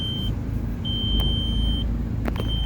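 A car drives along with a steady low engine and road rumble heard from inside the cabin, while a high electronic tone sounds in long stretches and a few sharp clicks cut through.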